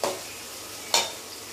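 Tomato pieces frying in a pan for an Andhra fish pulusu, a soft continuous sizzle with two sharp stirring scrapes, one at the start and one midway, no talking.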